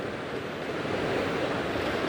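Ocean surf rolling in with the incoming tide, a steady broadband wash of breaking waves that swells slightly louder toward the end, with a hint of wind and no voices.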